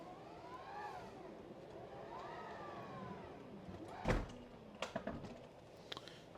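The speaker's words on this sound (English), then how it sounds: "let me close the back door there so I can just press" The rear door of a Tesla Model X Plaid shuts with a single solid thump, followed by a few lighter clicks and knocks, over a faint whining motor hum.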